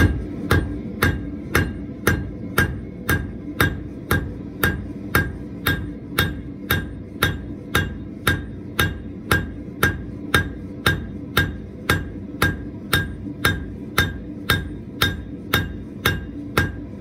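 Rhythmic hand hammering on hot metal while forging a toilet paper holder, sharp ringing blows landing about twice per second in a steady unbroken series, close and loud with no talk.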